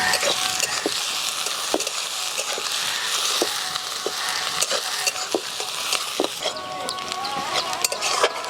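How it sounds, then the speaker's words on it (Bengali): Chopped onions added to bay leaves frying in a pan over a bamboo fire while chicken is cooked, giving a steady loud sizzle with occasional stirring clicks throughout. "কেটে রাখা পেঁয়াজগুলো দিয়ে দিচ্ছি।"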